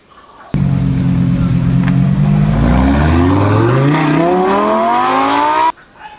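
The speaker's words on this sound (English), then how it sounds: "This is high-speed racing car." A toy high-speed racing car revs loudly and continuously, its engine pitch climbing steadily over about five seconds before cutting off abruptly, with no talking over it.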